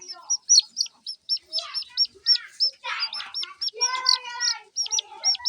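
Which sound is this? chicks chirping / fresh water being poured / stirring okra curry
chicks chirping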